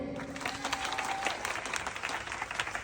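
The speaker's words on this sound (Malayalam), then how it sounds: "നല്ലൊരു കയ്യടി." An audience claps at a comedy stage program held at a church venue in Pathanamthitta, a dense, steady round of applause lasting throughout, fairly close and evenly loud.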